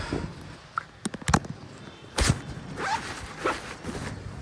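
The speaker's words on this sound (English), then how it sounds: "I have a admin pouch that let's see if I can try to open it with one hand." Zipper on an admin pouch pulled open one-handed, a few short scratchy zips amid rustling fabric and handling thumps, close by.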